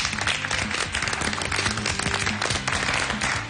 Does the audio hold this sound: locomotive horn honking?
no